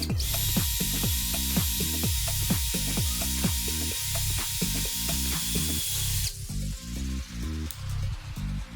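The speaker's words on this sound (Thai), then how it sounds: "เจาะเหล็ก" Masaru SCDS 125 hammer drill boring into steel, a rapid ratcheting hammer pulse with a bright, grinding hiss for about six seconds, then the hiss drops away while the motor's rhythmic knocking carries on briefly.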